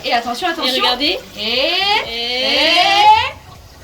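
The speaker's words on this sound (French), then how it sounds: "regardez quand on tire la chasse. Ah, ça remonte." A toilet in a Montreal apartment flushes, water rushing up in the bowl and then draining away, a steady hiss-like wash running for a couple of seconds beneath a voice talking close by.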